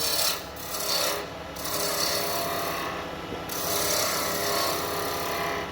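A wooden pen blank for a Beaufort Ink Zephyr pen is cut down on the lathe toward the bushing level, making a continuous close scraping rasp that swells and dips in level.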